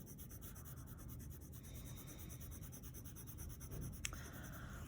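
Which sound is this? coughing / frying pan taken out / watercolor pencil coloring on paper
watercolor pencil coloring on paper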